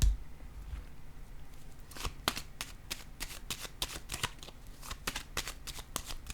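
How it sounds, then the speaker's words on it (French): Cards are handled during a tarot reading, giving a series of sharp, close snaps and flicks that come in an irregular, quickening rhythm over faint background hiss. "Ici, je vais déposer une carte."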